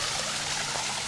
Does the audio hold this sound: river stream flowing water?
yes